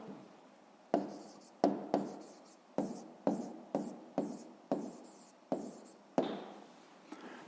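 Someone writes down the answer to a fifth-grade math exercise, about eleven short, crisp scratching strokes coming in a steady irregular rhythm, close and fairly quiet, with no talking.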